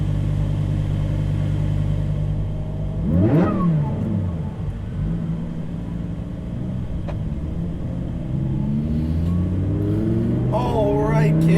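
A supercharged 870 HP Lamborghini Huracan Performante on a track, its engine droning steadily and then swelling into sharp revving sweeps that climb in pitch, loud and close throughout.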